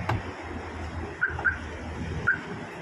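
A malfunctioning car alarm gives a few short, thin electronic chirps spaced irregularly over low background rumble, with no one speaking.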